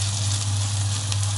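Grated courgette rösti sizzles steadily in hot oil in a pan, a constant close crackling hiss with no voice over it.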